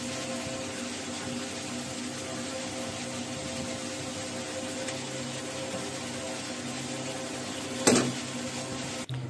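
Spices with turmeric and salt frying in hot oil in a pan, a steady, close sizzle throughout, with a brief clatter of stirring near the end.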